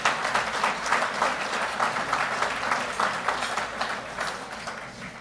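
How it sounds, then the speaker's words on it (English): A dinner audience at a police Award of Valor ceremony gives sustained applause, with dense steady clapping from many hands filling the room for several seconds. "give them a round of applause"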